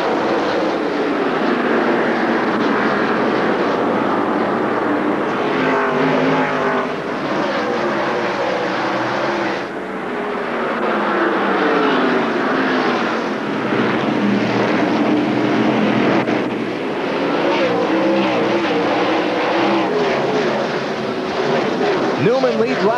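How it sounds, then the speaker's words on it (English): NASCAR Winston Cup stock cars race at the Martinsville Speedway short track during the 2002 Old Dominion 500, their engines making a steady, loud roar that swells and fades as the pack passes. "Green flag racing at Martinsville,"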